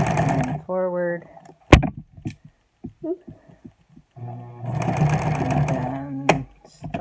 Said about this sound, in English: I'm going to do presser foot edge, seam, all the way around the rest of the mask